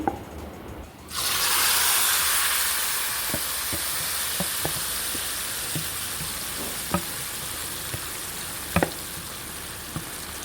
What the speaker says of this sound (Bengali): এবার আমি দিয়ে দিচ্ছি হাফ চা চামচ পরিমাণ পাঁচফোড়ন একটু ভেজে নিয়ে এর মধ্যে দিয়ে দেব ভর্তা করে নেওয়া সেই চালতাগুলোকে